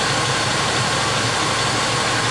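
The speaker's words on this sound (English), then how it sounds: "Alright, the engine's running." A Jeep YJ with the 258ci straight-six idles close by at about 750 rpm, a loud, steady, even drone with no talk.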